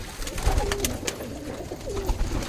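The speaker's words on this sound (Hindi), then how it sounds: "कलपोटन हैदराबादी, एक से एक लाजवाब कबूतर भाई" Hyderabadi pigeons cooing in a loft, several soft low coos repeating in short bursts close by, with light fluttering and background rustle.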